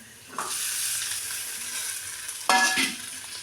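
Okra sautéing in a pan for bhendi bhaji, a steady close sizzle with a louder burst of stirring scrapes and clatter near the end; no talking.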